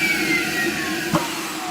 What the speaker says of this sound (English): let's use the inflator.